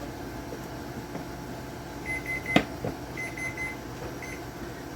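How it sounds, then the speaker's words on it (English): A kitchen timer beeps in a few short electronic bursts, quiet against a steady room hum while lemon raspberry jam is being canned. "That was the timer for 15 minutes."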